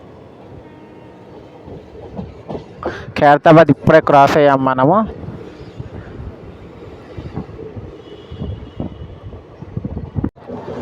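The Hyderabad Express, train 12604, runs toward Secunderabad station with a steady rumble, a brief burst of loud tonal sound in the middle, and someone talking over it.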